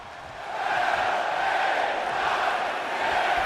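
A steady wash of crowd cheering fills an arena during a WWE 2K25 SmackDown main event. The roar holds at an even level with no clear peaks, under faint background sound.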